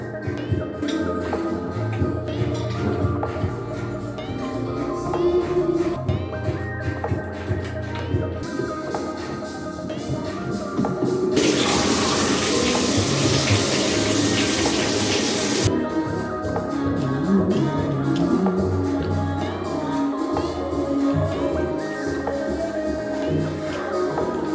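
An old, outdated bathroom faucet runs continuously, a steady hiss and splash of water that surges louder in the middle, with faint voices underneath.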